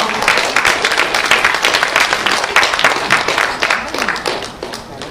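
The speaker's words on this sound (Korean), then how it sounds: "선생님 박수로 맞아주세요" Audience applause welcoming a speaker to an international forum, a crowd clapping steadily and fairly close, easing off slightly toward the end, with faint voices underneath.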